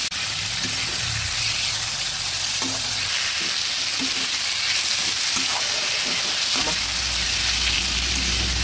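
Chopped potatoes fry in a vegetable curry, giving a loud, continuous close sizzle with scattered stirring scrapes and clicks throughout.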